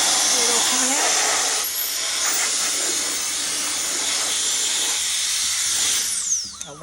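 Compressed air blasts dust and filament scraps out of an A1 3D printer, a steady loud hiss lasting several seconds before tapering off near the end.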